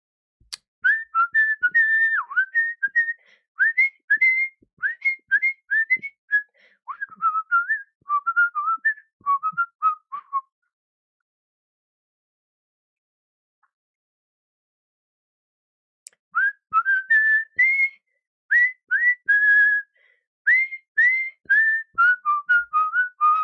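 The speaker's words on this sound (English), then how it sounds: "Do you use different techniques to whistle or only whistle one way?" A person whistles a bright, warbling tune in quick rising and falling notes, close and clear, broken by a long silent pause before the whistling resumes.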